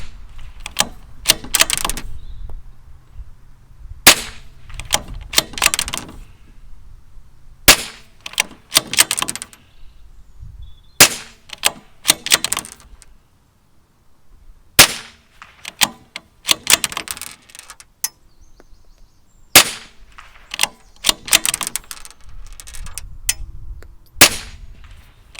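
A Bergara B14 R rimfire steel trainer rifle is worked and fired, with sharp metallic shots and bolt clacks arriving in repeated clustered bursts separated by short quiet pauses.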